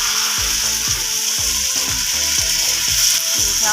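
About a cup of egg paratha batter sizzles in a greased frying pan, a steady bright hiss running throughout with a regular series of low knocks and scrapes beneath it.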